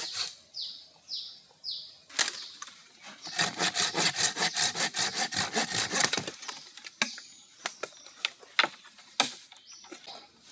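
A hand saw cuts through wood outdoors, a burst of fast steady back-and-forth strokes at close range, with scattered knocks and rustles before and after and chirping birds in the background.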